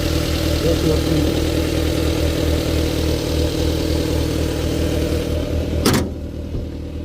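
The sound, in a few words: Maruti Wagon R car engine idling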